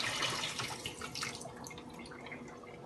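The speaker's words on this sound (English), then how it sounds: "Let me just drain the water so that you guys can see." Water pours and splashes steadily, loud at first and then settling into a softer trickle as it drains away.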